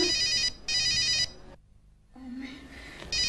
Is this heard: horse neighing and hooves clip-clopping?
no